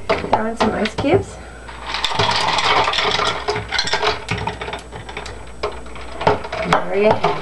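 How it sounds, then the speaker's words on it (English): Ice cubes tossed into a pitcher of homemade lemonade give a run of clinking, clattering knocks, some dense and some scattered, fairly close, with voices around them. "Throw in some ice cubes."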